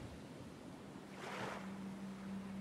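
Ocean waves wash around a makeshift raft on rough seas in Stranded Deep. A constant surf hiss swells into a louder surge midway, over a low steady drone, with no speech.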